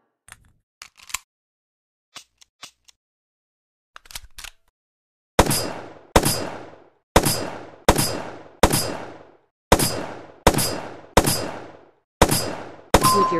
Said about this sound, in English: Once ready, shoot each of the targets.